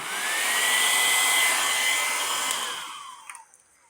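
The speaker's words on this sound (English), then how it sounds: "blow dryer right over the center so I can push that paint a little bit away" A hair dryer blows wet acrylic paint outward for a Dutch pour, with a loud, steady, close whooshing roar that holds for several seconds and then winds down and cuts off near the end.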